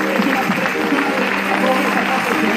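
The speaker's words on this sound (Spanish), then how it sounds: "Den un fuerte aplauso, Señor, por eso." Loud, steady applause from a church congregation during a Spanish-language praise and worship service, a dense unbroken wash of clapping with a few voices mixed in.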